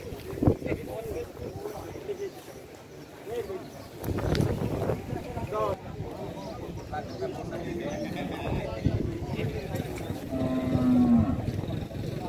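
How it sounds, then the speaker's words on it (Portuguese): Cattle moo repeatedly amid a busy outdoor crowd at a livestock fair in Ibiapina, Ceará, Brazil, with people talking nearby and a long low bellow standing out near the end. "Destaque para a vaca do seu Anastácio, que a bicha está bonita."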